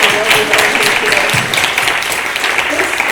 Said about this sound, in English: Could we really show some love and give applause to everybody here today?